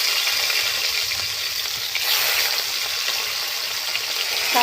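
Jiol fish (stinging catfish), coated in turmeric, lie in hot oil with a loud, continuous, close hissing sizzle that holds steady throughout, with no voices present.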